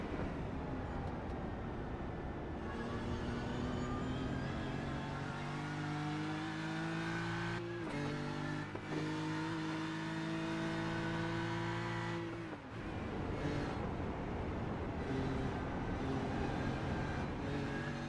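Race car engine in the iRacing game at the Nürburgring 24-hour race, a loud sustained drone climbing through the gears with sharp shift breaks and renewed revving, heard alone with no talk.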